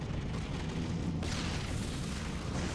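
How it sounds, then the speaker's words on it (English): A fiery explosion in the video game Lost Planet 3, a dense, sustained roar and rumble of blast noise that swells partway through and fills the whole stretch, with no speech over it. "Ooh, it's a fire explosion."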